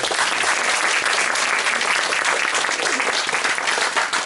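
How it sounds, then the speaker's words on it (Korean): At a 2015 New Year prayer meeting, a church congregation breaks into loud, continuous applause for a deacon who has just performed a song, a thick wall of clapping that holds steady without a break. "우리 수고한 집사님을 박수 한번."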